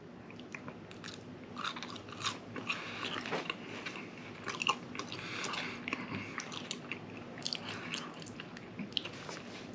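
Someone bites and chews a French fry close up, with moist crunching and mouth sounds repeating steadily over a quiet background.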